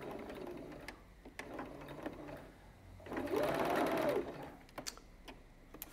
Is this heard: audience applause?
no